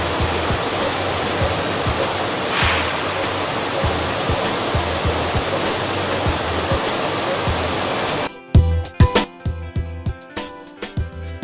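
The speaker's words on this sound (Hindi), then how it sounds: "इस सिस्टम में गेहूं को साफ पानी से धोया जाता है" Wheat washing system in a chakki flour mill, rinsing wheat grain with clean water: a loud, steady rush of running water like a small waterfall for about eight seconds, then abruptly cut to sparse clattering knocks and splashes.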